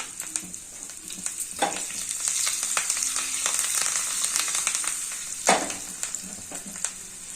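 Mustard seeds, cumin and asafoetida sizzling in hot oil with a bright, continuous hiss, scattered seed crackles and pops, and a couple of louder bursts as the spices hit the pan.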